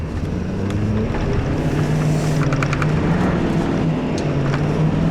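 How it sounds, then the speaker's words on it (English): A 2013 Ford F-350 Super Duty diesel pickup driving, its engine a steady, loud drone throughout with a rising rev partway through and wind noise over the microphone. "Now, surprisingly, for a diesel engine, it revs up pretty fast"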